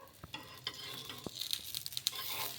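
Dosa batter made from leftover rice sizzling on a pan after oil is drizzled on top, a soft crackling hiss with scattered stirring and scraping clicks, fairly quiet and close.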